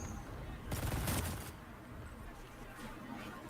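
A short, sharp volley of video-game gunfire cracks out near the start, about a second of rapid shots, then fades to a quieter background with faint voices.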